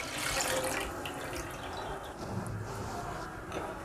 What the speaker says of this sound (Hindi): अब सबसे पहले हम अपने देगचे में ये दूध डालेंगे